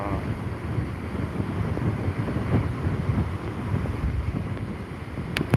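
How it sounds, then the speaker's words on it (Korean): Heavy surf pounding the Jeju coast during Typhoon Bavi, a deep continuous rumble of crashing waves under gusting wind buffeting the microphone, with a brief sharp knock near the end. "이야 파도 진짜 시원하게 친다"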